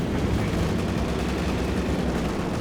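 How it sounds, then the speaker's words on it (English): Machine gun fire from a Company of Heroes 2 battle in a Rhine setting rattles as a dense, continuous roar. Steady and loud, it is mixed into a thick wall of battlefield noise with no clear gaps. "MG's getting some suppression going."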